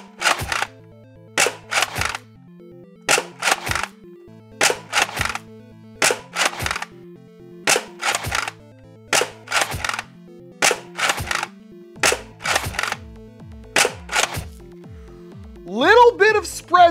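An X-Shot Pro Longshot foam dart blaster fires ten shots at a steady pace. Each one is a sharp, close snap followed by a short mechanical rattle, with no speech between them.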